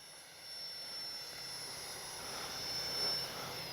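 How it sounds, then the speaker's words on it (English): E-flite 64mm Viper electric ducted-fan RC jet flying slowly overhead, a steady whooshing fan whine that holds at an even level and swells slightly toward the end, with no talk. "a jet that excels at slow flight."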